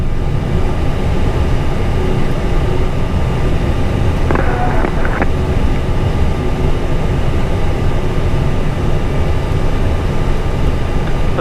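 An airliner takes off from Medan bound for Jakarta, heard from inside the cockpit as a loud, continuous roar and rumble with a short burst of faint clicks partway through.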